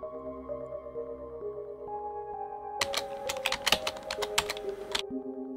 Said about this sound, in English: I start typing again in high and proud spirits.